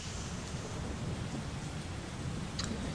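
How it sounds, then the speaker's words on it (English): Steady rain pours down in the video game Persona 4, a constant hiss with a low rumble of thunder beneath it, no voices, the whole storm holding an even loudness throughout. "You can hear it raining outside."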